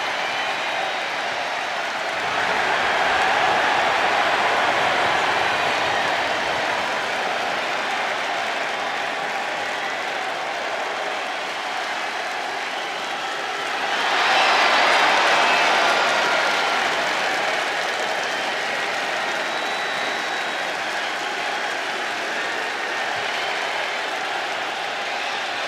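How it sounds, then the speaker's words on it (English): Crowd in a WWE 2K25 video game Raw arena cheering and applauding as a steady roar that swells twice, loud and continuous throughout with no talk. "The crowd is on their feet for Jey Uso."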